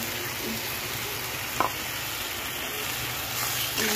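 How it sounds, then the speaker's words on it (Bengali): Ginger garlic paste sizzling in lightly fried onions in a kitchen pan, a steady close frying hiss with a short clack of a utensil midway and no talking. "এবার দিয়ে দিচ্ছি আদা রসুনের পেস্টটা।"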